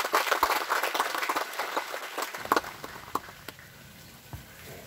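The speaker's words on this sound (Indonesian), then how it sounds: "tepuk tangan untuk itu." A small crowd claps, the applause fading gradually into a few scattered, isolated claps near the end.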